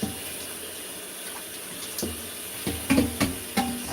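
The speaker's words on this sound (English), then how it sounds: "I'm going to rinse it with my Scrub Daddy. Not rinse, I'm actually washing it out." Tap water running into a sink while a cooking pan is scrubbed with a Scrub Daddy sponge, a steady close splash with scattered clanks and knocks of the pan.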